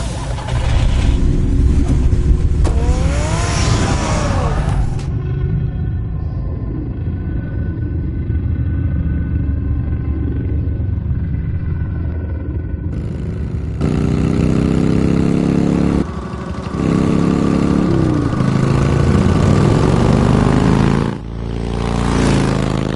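A car engine in the Batman Telltale video game rumbles steadily at idle, with several rising revs and gear-like pitch sweeps, loud and close throughout.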